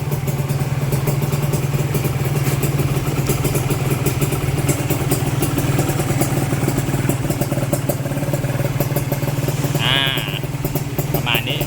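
A Kawasaki KR150 motorcycle engine idles steadily with a smooth, even hum that stays loud and constant throughout, with a bit of mechanical clatter near the end.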